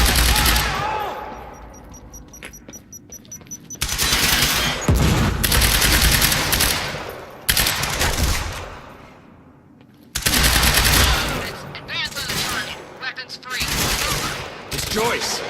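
Automatic gunfire in a firefight in the video game Quantum Break: loud, sustained bursts of machine-gun fire that come in waves, broken by short lulls, with voices faintly mixed in.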